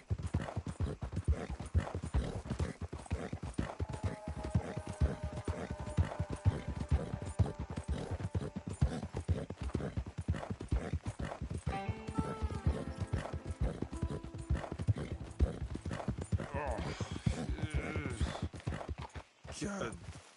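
Horse hooves clip-clop in a continuous rapid patter in the Red Dead video game, with whinnying and neighs rising over them and a voice talking at times, close and busy throughout.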